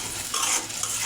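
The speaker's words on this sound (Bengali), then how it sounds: "মশলাটা আমি আর একটু কষিয়ে নেব।" Spice paste with fried onions, ground coriander and a splash of water stirred and fried in a pan for a fish curry, a steady close sizzle with brief scraping stirs, no voices.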